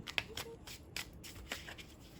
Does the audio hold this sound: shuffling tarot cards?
yes